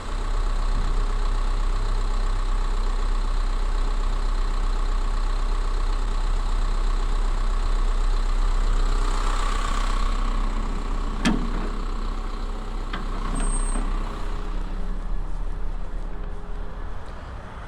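Isuzu NRR truck with a landscaper dump body, diesel engine idling steadily at close range while the body is lowered, with a brief clank partway through and a short high beep near the end.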